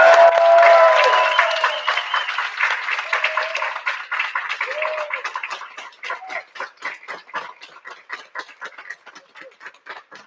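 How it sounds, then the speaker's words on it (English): Audience applause for 2021 EIP graduates at a senior recognition ceremony, loud and dense at first, then thinning into scattered individual claps that fade over about ten seconds. "let's give another round of applause for all of our 2021 EIP"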